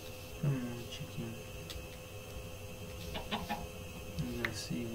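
Chickens cluck in Minecraft, a few short clucks near the start and again toward the end over steady game background noise.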